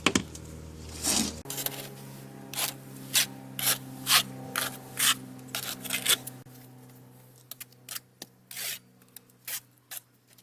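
A trowel spreading and levelling tile adhesive on a concrete wall, heard as a series of close, rhythmic rasping scrapes in short strokes, with a low hum early on and slightly irregular passes later.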